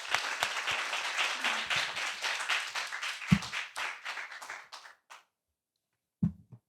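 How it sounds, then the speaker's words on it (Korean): An audience at a lecture gives warm, dense applause that fades out over several seconds, ending in a few scattered claps and a brief silence, with a final soft thump. "다시 한번 큰 박수로 강연을 시작하죠"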